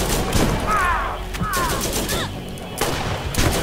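Shotgun blasts in the shooter video game Borderlands: several sharp reports in quick succession mixed with chaotic combat effects and a brief spoken remark.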